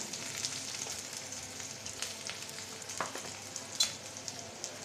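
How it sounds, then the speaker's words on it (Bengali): Chopped onion and garlic frying in hot oil, a soft continuous sizzle with light crackles and occasional stirring clicks, close and fairly quiet with no voices. "পেঁয়াজ রসুনটাও তেলে নেব"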